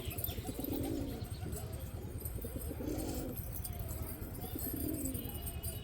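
A newly acquired pet pigeon coos softly at close range, giving three low, rolling coo phrases spaced about two seconds apart over a quiet indoor background.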